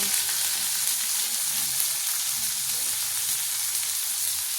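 Onion and tomato frying together in a pan as the base for a fish curry, giving a steady, close, even sizzle with no talking.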